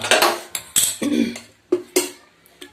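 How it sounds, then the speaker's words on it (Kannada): Several sharp metallic clanks and knocks of a steel frying pan being set down and shifted on a stove to heat for tempering, close and loud, in uneven bursts. "ಒಗ್ಗರಣೆಗೆ ಒಂದು ಬಾಣಲೆಯನ್ನು ಕಾಯಲಿಟ್ಟಿದ್ದೀನಿ"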